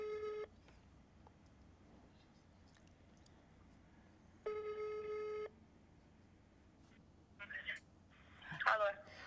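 Telephone ringback tone after dialing a number: two long steady tone bursts separated by a pause, clear and moderately loud over faint room hiss, followed by brief rustling noises.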